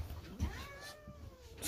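A house cat gives a drawn-out, rising and falling meow while a dog pesters it indoors; the call is close and moderately loud, with faint rustling around it.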